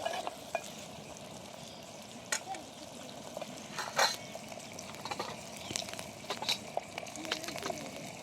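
Masala and ground spice paste frying in a pan for a prawn curry, a faint continuous crackle with scattered soft pops and stirring scrapes at moderate distance.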